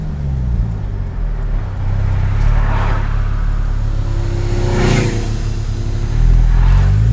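A Porsche Cayman with a very loud aftermarket exhaust on a country lane, rumbling and blipping through several downshifts with sharp rev spikes, heard closely and continuously without talk.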